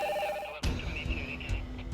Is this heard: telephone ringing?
yes